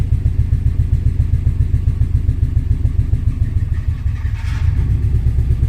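The engine of a 1998 Subaru Forester S runs steadily during a transmission test, loud and close with a throbbing, slightly clattery idle. A brief higher-pitched whine appears near the end.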